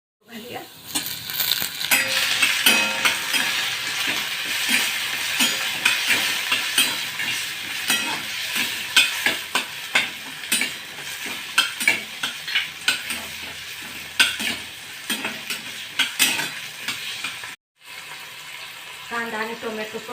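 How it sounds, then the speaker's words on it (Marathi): Chopped onion and tomato sauté in a pan, giving a steady close sizzle broken by repeated scraping stirs, with a brief silent break near the end. "कांदा आणि टोमॅटो परतून झाले"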